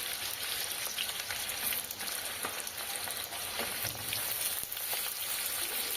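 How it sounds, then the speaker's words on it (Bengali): Whole pointed gourds (potol) fry in hot oil in a wok, giving a steady, dense crackling sizzle with fine popping spatters throughout, close and continuous with no talking. "কড়াইতে তেল গরম হয়ে গেছে, এবার পটলটাকে এক এক করে ভেজে নেব"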